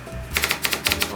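Line feed lever on a 1903 Stower antique typewriter being worked, giving a quick series of about seven sharp metallic clicks and ratchet snaps in a steady rhythm, close and fairly loud with no talking.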